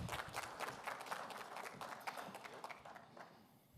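Audience applause at a technology conference welcoming a speaker to the stage, a fairly faint, steady patter of many hands clapping at a distance that thins out toward the end.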